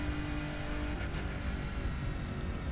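A car's engine drones and revs in the racing game The Crew 2, a steady, dense motor roar holding level throughout at moderate volume, with no voices.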